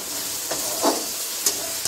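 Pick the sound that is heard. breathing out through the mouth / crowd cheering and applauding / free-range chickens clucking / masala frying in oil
masala frying in oil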